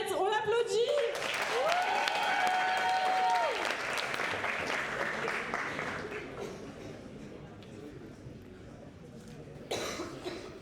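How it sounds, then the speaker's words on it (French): An audience at a talent show applauds a performer, loud clapping at first that thins and fades over several seconds, mixed with coughs, throat clearing and a brief voice, then a short swell of noise near the end. "L'artiste est prête, on l'applaudit"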